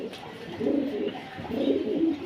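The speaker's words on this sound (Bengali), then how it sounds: "একজোড়া রয়্যাল টেরি কবুতর" A pair of Royal Teddy pigeons coo softly in two low, rolling phrases, close and fairly quiet with no talk.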